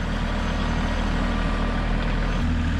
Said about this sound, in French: Erwan qui fait du tracteur.